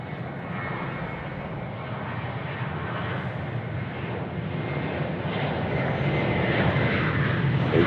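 Airliner landing on runway 34 right at Sydney Airport, a loud, steady roar of engines swelling gradually as it passes close by, with no voices over it.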